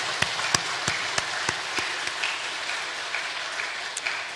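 A church congregation claps in thanks during a sermon, a dense, steady patter of many hands with a few sharper claps standing out, moderately loud and without talk.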